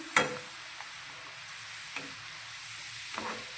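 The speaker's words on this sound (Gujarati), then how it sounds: "હાઈ ગેસની ફ્લેમ પર તળીશું એટલે આપણું આ ખમણ એકદમ સરસ રીતે ક્રિસ્પી તૈયાર થશે" Grated potato shreds frying in hot oil over a high gas flame, a steady soft sizzle with a few stirring clicks and scrapes, close and fairly quiet.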